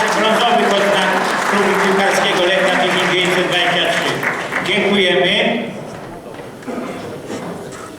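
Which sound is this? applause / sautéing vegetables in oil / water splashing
applause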